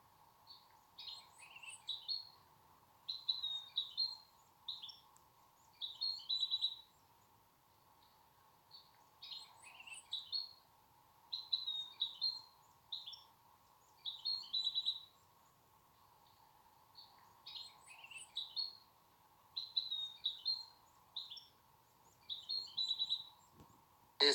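A baby bird chirps in repeated clusters of thin, high peeps, separated by short pauses. The calls are faint and close, over a quiet steady hum, with no one speaking.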